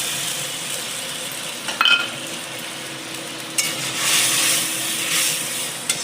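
Spices sizzle and spit in hot oil in a kadai for a Bengali katla fish mustard-poppy dish, a steady close fry with a sharp burst near the start and a louder crackling swell midway, no talk.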